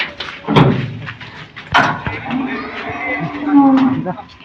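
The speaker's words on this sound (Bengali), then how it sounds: "আমরা দেখতে পাচ্ছি তুইন ভাইয়ের মোল্লাপাড়ার খামারে কিন্তু একটি নতুন গাভী নিয়ে আসা হলো" A dairy cow moos nearby on a farm, a low drawn-out call near the end, amid sharp knocks and bumps of a busy farm setting.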